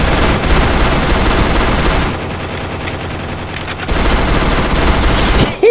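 Dense automatic gunfire from the mobile shooter Free Fire in gladiator mode, loud continuous bursts that ease briefly mid-way and then resume, with no talk over them.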